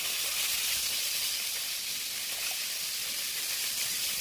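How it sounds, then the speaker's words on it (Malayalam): Soaked kaima rice goes into boiling water for chicken biriyani, giving a steady close hiss of steam and bubbling water that runs evenly through the whole stretch. "വെട്ടി തിളച്ച വെള്ളത്തിലേക്ക് ഇങ്ങനെ ഇടുവാണ് കേട്ടോ"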